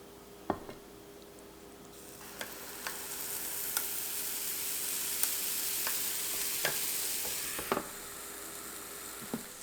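Sourdough discard waffles cook in a hot waffle maker: a soft steady sizzle swells after a couple of seconds, punctuated by sparse sharp clicks and taps, close and fairly quiet with no talking.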